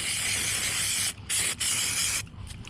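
Spray 90 adhesive hisses from an aerosol can onto kayak outfitting foam in long, steady bursts with two brief breaks, close and loud, trailing off into short puffs.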